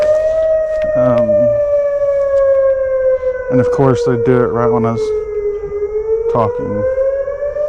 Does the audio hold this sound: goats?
no